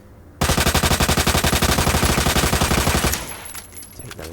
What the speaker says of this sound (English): Lighting them up with the machine gun.